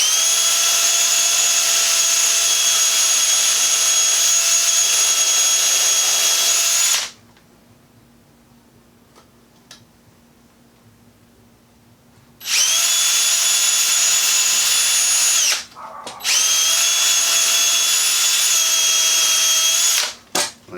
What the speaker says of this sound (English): I'll get my drill out and pop 2 holes in here.